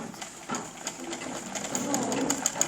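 A sewing machine does zigzag stitching for Turkish whitework embroidery, its needle thumping in a fast, steady rhythm close by. The running hum holds under light speech.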